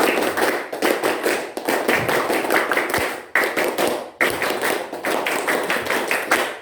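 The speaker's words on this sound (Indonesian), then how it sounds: "tepuk pramuka" A classroom group claps the rhythmic scout clap pattern together, dense and close, in bursts separated by brief pauses.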